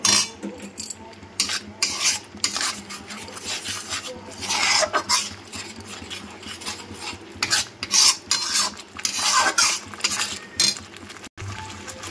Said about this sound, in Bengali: তেঁতুল গুঁড়াটা এবার আমি মিশিয়ে দেবো।